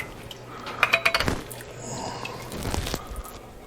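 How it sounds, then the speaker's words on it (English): Pasta sauce is emptied into a pan for baked ziti, with a few metal clinks from a container or spoon and soft wet sloshing, all fairly quiet and close. "I'm going to empty the other sauce in here."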